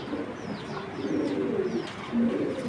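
A Bezi pigeon coos softly and repeatedly, low throaty murmurs close by over a little background chirping.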